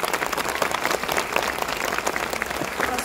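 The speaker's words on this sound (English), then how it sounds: "a round of applause for the crew who are in the movie here" A cinema audience at an IMAX Q&A screening applauds the film crew, with dense, sustained clapping from a large crowd filling the room at an even level.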